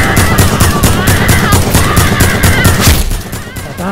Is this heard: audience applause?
no